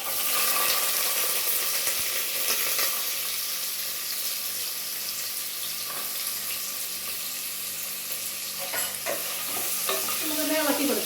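Squid roast with small coconut pieces stirred in hot oil in a pan, a continuous close sizzle with spoon scrapes and stirring clatter throughout.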